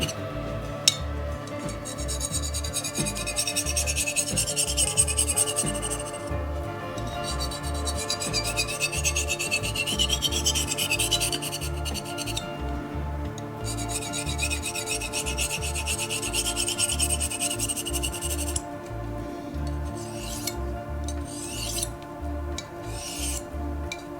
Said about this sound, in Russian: Давайте попробуем на камушке немножко режущую кромочку поправить.